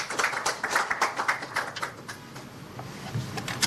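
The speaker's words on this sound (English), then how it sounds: "A round of applause for him." Audience applause at an investor week event for an asset manager's representative, sparse individual claps that are loud and irregular at first, then thin out and fade.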